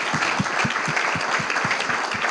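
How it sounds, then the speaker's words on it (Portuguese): A church congregation claps for Jesus in a steady, rhythmic unison beat of roughly four claps per second, full and close, with a dense wash of crowd noise filling the room throughout. "vamos dar uma salva de palmas para Jesus"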